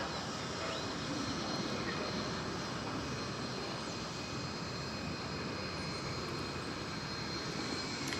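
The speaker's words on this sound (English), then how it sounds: "That was American Eagle 4892 from Killeen, Texas, a 41-minute flight." An American Eagle regional airliner at DFW Airport gives a steady, faint engine roar heard from a distance, an even broadband rumble with a thin high whine running throughout.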